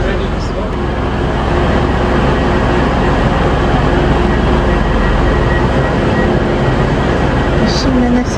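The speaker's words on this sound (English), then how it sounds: "Assuming this is the train." A train pulls into platform 4 of a station with a loud, continuous rumble and broadband roar that swells after the first second and holds steady, close by and dominating the scene.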